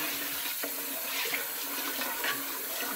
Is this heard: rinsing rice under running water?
yes